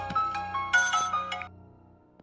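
A telephone ringtone plays a short bright melodic jingle of several rising and falling notes, loud and close, then fades out with no speech.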